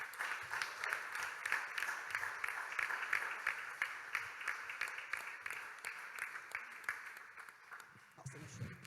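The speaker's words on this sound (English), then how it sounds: "Let's give them a round of applause." An audience in a church hall applauds, many hands clapping in a dense, steady patter for several seconds before it thins out and fades, with a voice briefly heard at the end.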